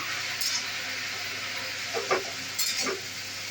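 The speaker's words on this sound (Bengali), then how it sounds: "হলুদ দিয়ে দিচ্ছি, একেবারে ভালো করে ভাজতে দিলাম" Water spinach greens fry with turmeric in a pan, giving a steady close sizzle and hiss. A few scraping stirs and utensil clinks sound over the top, with no talking.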